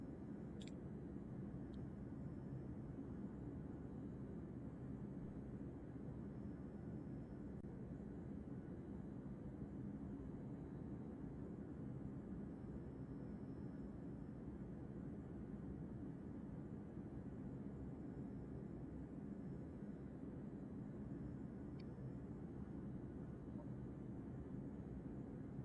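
An F-35B Lightning II jet in ARMA 3 taxis after landing, its engine a steady, faint, low roaring drone that holds level throughout with no speech.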